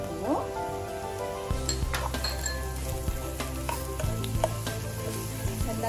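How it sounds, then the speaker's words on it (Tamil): Spring onions and paneer fry in a hot pan for paneer manchurian, giving a steady sizzle with occasional stirring clinks and scrapes while a voice speaks over the cooking. "எல்லாத்தையும் ஜஸ்ட் ஒரு 2 மினிட்ஸ் நல்லா கொஞ்சம் ஃப்ரை பண்ணிக்கோங்க."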